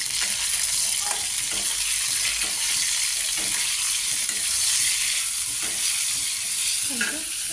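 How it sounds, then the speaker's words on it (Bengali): Sliced pointed gourd (potol) fries in oil in a home kitchen pan, a steady close sizzle with occasional stirring scrapes and soft clinks, no voices. "এই যে ওখানে হচ্ছে পটল ভাজছি"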